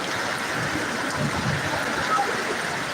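Rain falls in a steady, dense hiss with no breaks, and a faint voice may murmur underneath.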